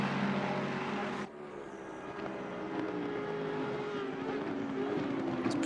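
Race cars, a Lexus and a Ferrari, running close together in Assetto Corsa Competizione, their engines a loud, steady drone that dips briefly before building again.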